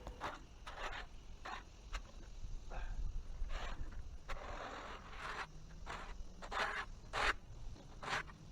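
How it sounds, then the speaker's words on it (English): A rake scrapes damp grass clippings off a sidewalk and driveway outdoors, making repeated soft scratchy strokes in an irregular rhythm, close but quiet, with no talking. "So I'm getting at least the big stuff raked off of the sidewalk and driveway first"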